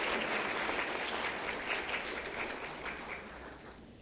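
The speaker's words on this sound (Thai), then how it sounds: "ขอเสียงปรบมือต้อนรับ" Sustained audience applause in a seminar hall as a Thai tourism and sports minister is welcomed to the stage at an ASEAN economic community tourism forum, steady and dense throughout and slowly tapering off toward the end, with no talk over it.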